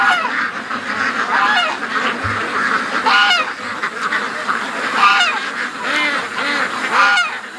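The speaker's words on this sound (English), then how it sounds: "Ducks don't know what they want to do" A flock of ducks roams a yard near a pen, quacking and honking loudly and continuously, many birds calling over one another close by.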